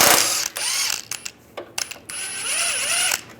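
A ratchet with a 13mm socket removes steering rack bolts on a 1998–2010 Volkswagen Beetle, with two stretches of fast close ratchet clicking separated by short clanks and pauses.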